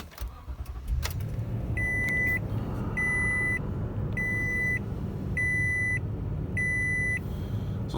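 A 2019 Toyota Sequoia Platinum truck starts with a rumbling engine idle, then five evenly spaced electronic chime beeps repeat over the steady hum, close up inside the cabin.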